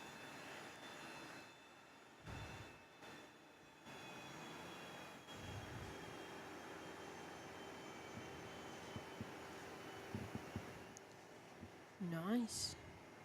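An Alliance airliner taxies past at Perth airport, a low, steady engine drone at a distance with a rising whine near the end, while a voice talks over it.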